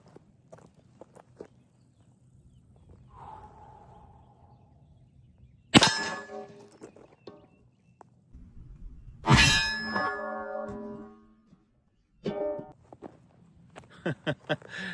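Sharp metallic clangs ring out three times as .45 Long Colt bullets hit steel body armor, spaced a few seconds apart, against quiet outdoor background with a faint voice.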